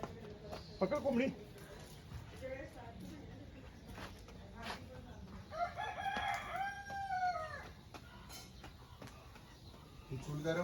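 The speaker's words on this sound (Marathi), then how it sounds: "पकड कोंबडी." A chicken clucks and squawks in agitated bursts as it is chased around a village during a Hanuman Jayanti festival, with people talking and calling nearby.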